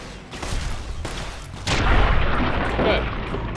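Pistol fire in Fallout: Tale of Two Wastelands, a run of sharp gunshots that builds into a louder sustained volley of firing and booms.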